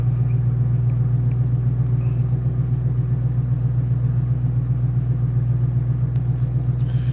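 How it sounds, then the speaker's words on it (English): A Dodge Demon 170 engine drones steadily with a deep, low, even hum, close and loud throughout. "I've never heard of another Demon 170 sounding like an air compressor"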